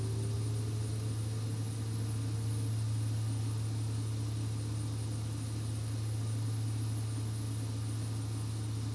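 Airplane engine in a PilotEdge flight simulator, a steady loud drone with a low constant hum as the aircraft climbs after takeoff, unbroken throughout.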